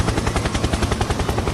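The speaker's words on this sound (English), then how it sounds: "Helicopter, helicopter." A helicopter flying close by, its rotor thumping in a fast steady chop that stays loud and constant throughout.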